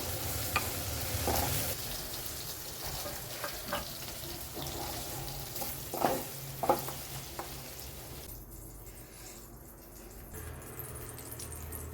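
Okra fries in plenty of oil in a kadhai, a steady close sizzle punctuated by occasional stirring scrapes and clinks, easing off toward the end, with no talking.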